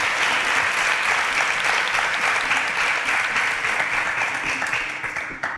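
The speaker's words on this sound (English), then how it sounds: "Round of applause." A studio audience on a quiz show gives a sustained burst of loud, close clapping that holds steady, then fades out at the end.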